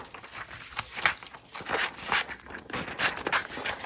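Scissors snipping and rustling through paper while cutting out craft shapes of an Earth, an astronaut and a spaceship, a close run of crisp crinkles and quick cuts with no talking.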